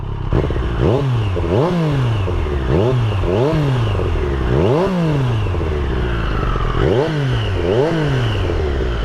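A Triumph Street Triple RS motorcycle with standard exhaust revs repeatedly, each throttle blip rising and falling in a rhythmic series of loud, close vroom sounds over a rumbling idle.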